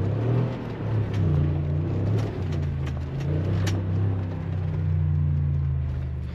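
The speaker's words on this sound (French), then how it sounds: "pour le bruit du V8, c'est sympathique" A deep, rumbling V8 car engine idles and revs steadily in Andorra, loud and continuous with a low throbbing tone, no talking.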